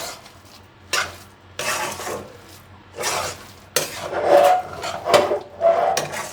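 Biryani made with shapla leaf and fish, sprinkled with shahi garam masala, is stirred in a pot: repeated scraping, rubbing strokes of a utensil against the vessel in uneven bursts, close and fairly loud.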